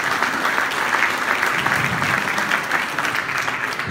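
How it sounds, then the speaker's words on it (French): An audience in a French municipal gathering applauds a former mayor, a steady, dense wash of many hands clapping at an even level, with no voices standing out. "Vous pouvez l'applaudir."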